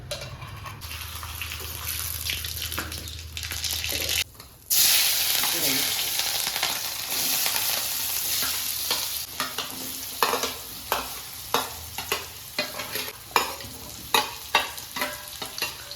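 Potatoes and onions frying in oil for poha in a home kitchen, a broad hissing sizzle with a tap-like water wash early on, then a run of sharp stirring clatters toward the end, with faint background voices.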